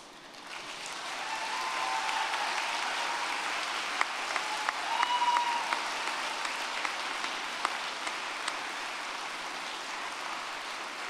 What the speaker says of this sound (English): I would like to invite you, our graduands, to stand up and give those people a warm applause.